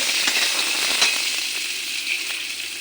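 Chopped onion fries in a pan for an egg and potato omelette dish, giving a bright, steady sizzle with faint crackles and an occasional soft utensil tap, close and continuous with no talking.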